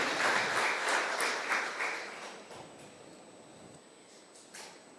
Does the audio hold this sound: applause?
yes